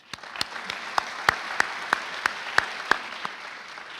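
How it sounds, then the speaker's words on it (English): A small audience applauds award-winning students at an awards-of-excellence ceremony, steady mid-distance clapping with sharp individual claps standing out in a regular rhythm, no voices over it. "I would like to give one more round of applause for all of these wonderful students"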